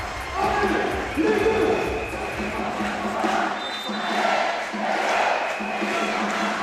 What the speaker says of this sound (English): Every point makes the crowd a little bit louder, a little bit more excited